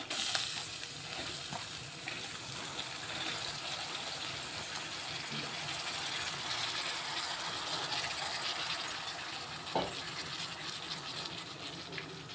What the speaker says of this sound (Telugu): ఇప్పుడు ఇందులో నేనైతే కడిగి పెట్టుకున్నా ఈ పప్పు అయితే వేసుకుంటాను